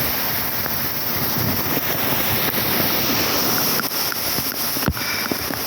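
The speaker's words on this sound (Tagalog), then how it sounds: "Hangin." Steady wind roaring across the microphone at sea with a broad rushing noise, plus faint surf-like wash and occasional buffeting thumps.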